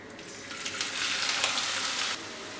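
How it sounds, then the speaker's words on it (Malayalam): Chopped onion, ginger, green chili and garlic hit hot oil in a pan with a steady hiss of sizzling that swells loudly after the first second and then drops off abruptly near the end. "നമുക്കിതിലേക്ക് അരിഞ്ഞു വെച്ചിരിക്കുന്ന സവാള, ഇഞ്ചി, പച്ചമുളക്, വെളുത്തുള്ളി ഇടാം."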